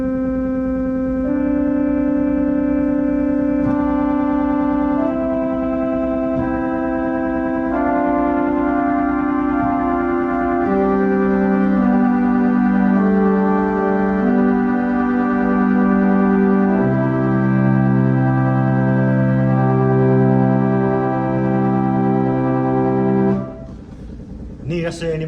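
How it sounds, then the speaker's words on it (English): Pipe organ in a Methodist church in Swaledale, playing the violin diapason stop on the Swell with a very fast tremulant: sustained chords with a rapid, steady pulse, loud and continuous for over twenty seconds before cutting off. "Let's try it with the violin diapason."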